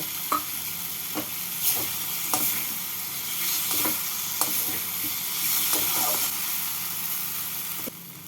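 Fried potatoes stirred into a cooked spice paste in a pan for a fish curry, a continuous close sizzle broken by regular scrapes and knocks of the spatula every second or so.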